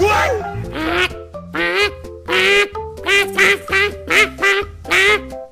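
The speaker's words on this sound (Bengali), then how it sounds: "এ তো দেখছি দুটো নর্মাল রাজহাঁস" Geese honking loudly and close by in a series of about eight harsh, nasal calls with brief gaps between them.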